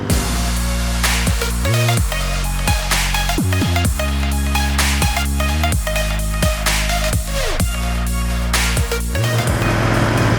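A Royal Enfield Continental GT 650 cafe racer motorcycle on a test ride in traffic: a close, loud engine drone that rises and falls with throttle, with repeated sweeps at gear shifts and no talk.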